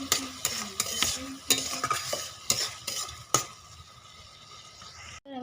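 Spice masala stir-fried in a karahi, loud scraping stirs of a spatula every second or so over a soft sizzle, then the stirring stops and a quieter sizzle remains.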